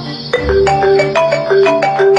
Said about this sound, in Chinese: 突然鬼新娘给他打来了电话